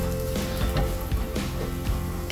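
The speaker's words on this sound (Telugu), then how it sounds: "ఇలాగే చిన్న మంట మీద వేపుకుంటూ ఉన్నాం." Grated fresh coconut fries on a low flame in a pan, giving a soft continuous sizzle with a few brief knocks and scrapes of a spoon stirring close by, no talking.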